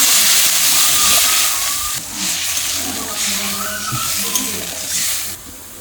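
Water poured into a pan of sizzling, well-fried fish curry masala, giving a steady loud hiss and steam rush that changes and softens partway through, with no talk.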